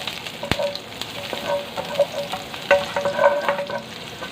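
Hot oil sizzles in a pan on the stove as a Filipino sauté begins, with crackling pops and scattered spatula taps against the pan; close and fairly quiet, no speech.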